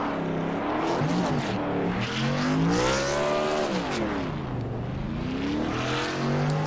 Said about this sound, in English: Burning off every bit of grip on those tires as possible.